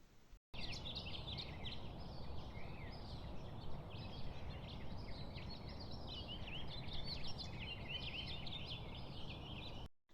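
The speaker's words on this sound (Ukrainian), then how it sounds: "Так, це спів пташок навесні." Many spring birds sing together outdoors in a dense, continuous chorus of overlapping chirps and trills that fills the whole stretch at a steady level.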